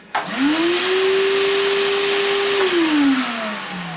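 A compact Lavor VAC 30 S shop vacuum starts up with a rising whine, runs steadily at a constant pitch, then winds down as the motor slows.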